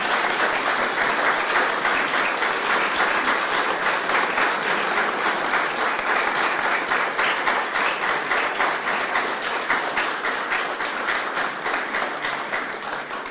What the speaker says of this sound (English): So by this applause